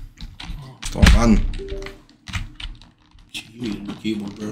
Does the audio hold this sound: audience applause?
no